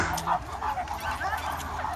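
A Caucasian shepherd dog barks and yips on a street among stray dogs, giving several short, whining barks at moderate distance, with people talking over much of it.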